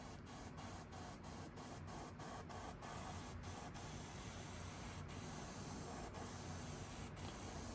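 Airbrush spraying paint through a stencil onto a custom chartreuse perch fishing lure, a steady soft hiss broken by a quick run of short clicks and then a few spaced ones, quiet and close, with no talk.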